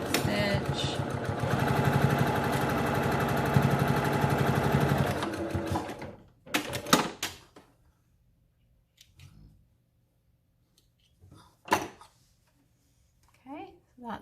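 A sewing machine runs a fast continuous burst while back stitching a fabric face mask, then stops abruptly, leaving a few short handling clicks and rustles at close range.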